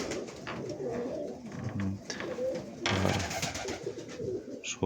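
Pigeons in breeding season coo in low, throaty bursts, several calls overlapping at moderate distance, with rustling and a sharper noise partway through.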